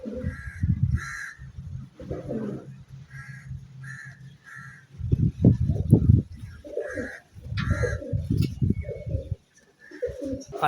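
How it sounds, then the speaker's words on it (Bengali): Pigeons coo close by in repeated throaty bursts with short pauses between them, and other birds call in the background throughout. "একটা পায়রা দেখাচ্ছি পুরনো পায়রা"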